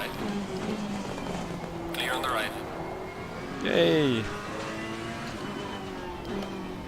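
BMW race car engine in the racing game Assetto Corsa Competizione at the Nürburgring, revving through gears in a couple of rising and falling sweeps, moderately loud under a person talking.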